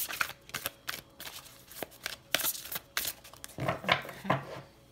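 A matte-finish Black Tarot deck being shuffled up close, with a quick run of papery riffles and flicks, some louder bursts near the end, and no talking.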